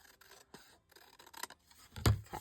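Quiet snips and rustles of scissors cutting a long paper scrap strip for crafting, close, ending in a louder thump, no talk.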